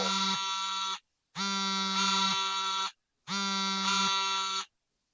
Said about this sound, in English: Is that somebody's phone? God, it sounds like it.